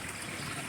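Water rushes steadily through a small dam, swollen after a storm, making a broad, even, continuous wash with no talking over it.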